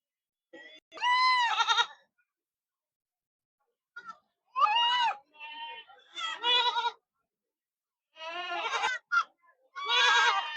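Goats bleat repeatedly at a goat and sheep market in short, wavering bursts with pauses between, fairly close, one call answering another.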